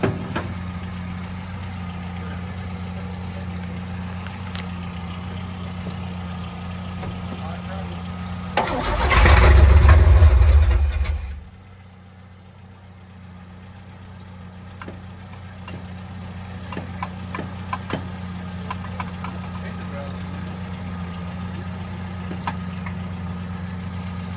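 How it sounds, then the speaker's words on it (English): A 1966 Chevrolet C10 truck engine cranks briefly with a loud rising roar, then drops to a low steady idle that runs on, with people talking nearby throughout. "All right, crank it again."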